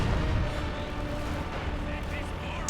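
Artillery bombardment in the Company of Heroes 2 battle game booms under continuous commentary, a dense rumble of distant shellfire and explosions throughout.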